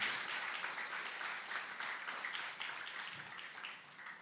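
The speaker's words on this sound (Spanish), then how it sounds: "Denle el aplauso fuerte al Rey." Church congregation applauding during a sermon, a dense sustained wash of clapping from many hands at some distance, easing off slightly toward the end.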